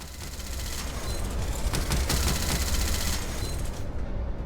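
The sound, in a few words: turrets firing in a video game, Colony Ship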